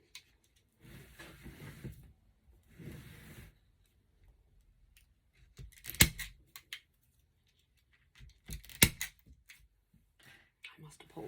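A zip tie tool ratchets a zip tie tight with a few short clicking bursts, then snaps it off with two sharp cutting clacks, close and quiet in a near-silent room.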